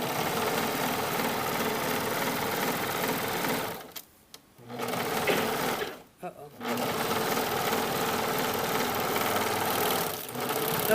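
A sewing machine stitches elastic onto swimsuit fabric in steady, buzzing runs. Two brief pauses break the sewing, and a quiet voice is faintly present.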